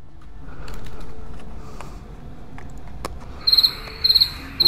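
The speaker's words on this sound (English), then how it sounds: "Okay. Crickets." Crickets chirp in short, rapid pulsed bursts, repeating at a steady interval over a low outdoor background hum.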